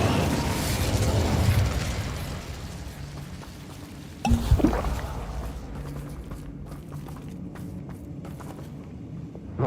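A fire spell cast in Hogwarts Legacy, heard as a sudden burst around mid-clip rising out of a dense, busy game soundscape and then settling into a steady, roaring background.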